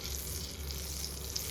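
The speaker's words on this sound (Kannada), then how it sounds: "ಬಟರ್ನ ನಾನು ಇಲ್ಲಿ ಹಾಕ್ತಾ ಇದ್ದೀನಿ" Butter sizzles steadily in a hot pan for a butter garlic chicken dish, a continuous close crackling hiss with no talk over it.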